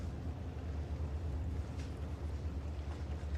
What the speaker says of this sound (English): They got the engine going.